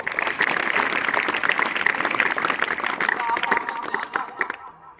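Students clap together at a legal literacy and awareness session held at an academy in Thanagazi. The applause is dense and steady, close and loud, and tapers off near the end.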